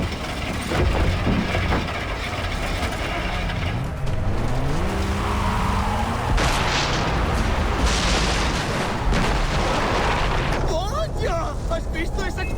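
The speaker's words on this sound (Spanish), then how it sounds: "¿Has visto esa explosión? ¿Qué? ¡Ha explotado algo!" A loud explosion in the video game Far Cry 3 during a vehicle chase, with broad booming blasts mixed with engine roar and tire noise, while voices shout over the action.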